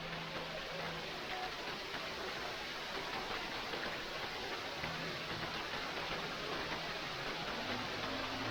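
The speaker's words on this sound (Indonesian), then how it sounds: "tiba-tiba hujan lagi nih gengs" Steady rain falls at a hillside tourist spot near the Situ Gunung suspension bridge in Sukabumi, a constant even hiss of drops with no pauses or voices.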